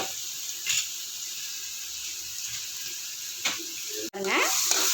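Chicken masala with ginger and garlic sautés in a pan, a low steady sizzle with a few stirring scrapes, followed near the end by a brief cut and louder clattering.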